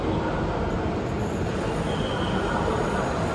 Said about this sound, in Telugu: పైన మెట్రో ఉంటుంది